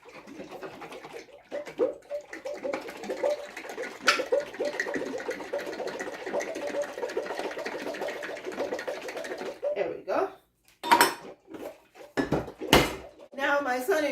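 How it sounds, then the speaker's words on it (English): A jar holding wet pancake ingredients is shaken vigorously by a child, a busy rattling, sloshing churn lasting several seconds before breaking into a few separate louder jolts. "my son is shaking the jar for me with all the wet ingredients"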